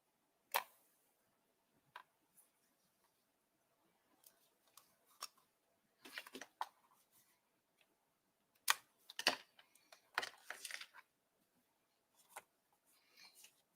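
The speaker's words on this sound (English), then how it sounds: "So let's trim that down." Paper being trimmed for a spring-themed mini album cover: sharp, crisp cuts and small snips come in scattered bursts with quiet pauses between them, close and fairly soft, with no talking.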